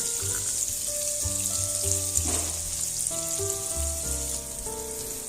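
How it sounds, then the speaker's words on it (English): Six tablespoons of butter melting in a pan for lobster mac and cheese give off a steady, close, even sizzle that runs the whole time, with faint tonal hum behind it. "let's melt the butter completely first here"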